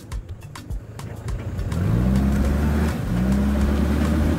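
An off-road car's engine revs up as the gas is pressed, rising to a loud, steady drone that dips briefly and then holds strong, with no talk over it.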